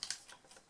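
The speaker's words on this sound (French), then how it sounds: "Vous prenez vos ciseaux, vous coupez." Scissors snipping through card for a handmade 3D Christmas card: a few quiet, crisp cuts in quick succession, close by and with no talking.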